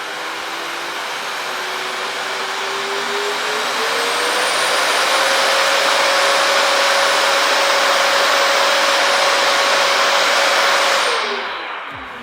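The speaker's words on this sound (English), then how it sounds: "This is how you start the vacuum cleaner." A Eureka Forbes Vogue vacuum cleaner runs alone with a loud, steady whooshing roar. Its motor whine climbs in pitch partway through as the suction setting changes, then winds down as it is switched off.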